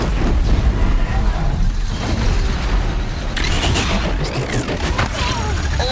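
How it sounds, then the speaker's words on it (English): Explosions in the Horizon Zero Dawn game: loud, continuous rumbling blasts and booms from sticky bombs damaging a large machine, layered with mechanical clanks and a dense, roaring din throughout. "The explosions are real, guys."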